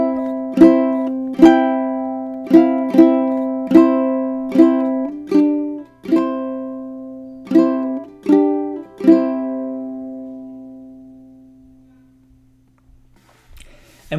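Ukulele fretting exercise played slowly: a series of single plucked notes and short note pairs with clear ringing decays, irregular rhythm, the last notes fading out over a few seconds, played alone without talk.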